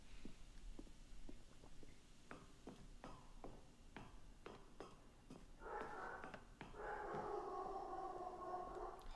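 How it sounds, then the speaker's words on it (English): In a video game, a dog gives a run of sharp, evenly spaced barks, then breaks into long, wavering howls that rise and hold to the end. "My dog."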